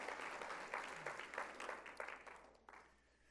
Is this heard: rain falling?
no